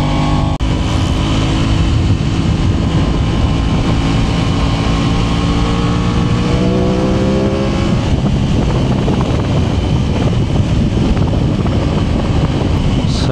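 An Aprilia Tuono 660 motorcycle engine roars loud and close, its revs sweeping upward in steady rising pulls with quick automatic blips between shifts, under heavy wind rush and with no talk.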